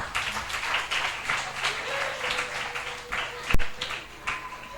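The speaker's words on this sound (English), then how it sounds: "Another round of applause for them." Moderate applause from a small audience at a children's Bible quiz competition final, with uneven clapping bursts, a sharp knock partway through, and a faint background tone.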